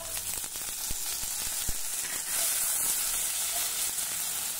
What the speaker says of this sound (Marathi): आता आपण यामध्ये चवीनुसार बारीक चिरलेली हिरवी मिरची घालू आणि अर्धा टोमॅटो।